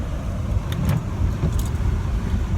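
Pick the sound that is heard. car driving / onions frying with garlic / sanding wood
car driving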